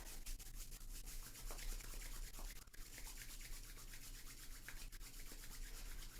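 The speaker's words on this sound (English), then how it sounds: "Rubbing the palms together and the soles of the feet together." Palms rubbing together and soles of the feet rubbing together during a Kundalini yoga exercise, a soft, steady swishing friction, close and quiet, with no talk.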